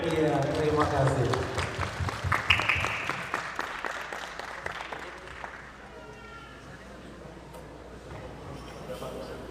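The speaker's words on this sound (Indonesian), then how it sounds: "Tepuk tangannya." An audience applauds a hadroh team from Gimhae, a burst of brisk clapping that fades over several seconds while a voice talks over it.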